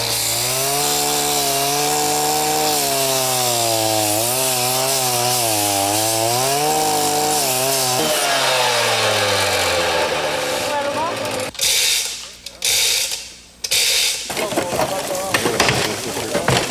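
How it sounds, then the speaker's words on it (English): A power saw cuts loudly into the metal of a crashed aircraft cockpit, its whining pitch rising and falling steadily. The cutting then breaks into short, rough bursts of grinding. "The cockpit will be rolled over and cut open to expose the instruments."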